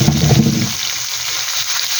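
Pork hitting a hot pan for pork menudo, a loud burst of sizzling at first that settles into a steady frying hiss for about two seconds, no voices.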